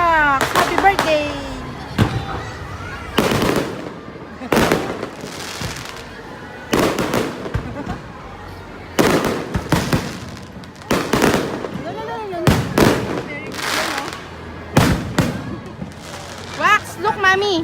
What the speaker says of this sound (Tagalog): Fireworks, happy birthday.